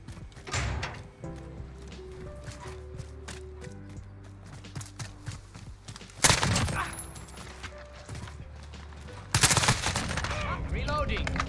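An AS VAL assault rifle fires in Modern Warfare, with short bursts and rapid strings of shots that grow louder midway and near the end, over background music.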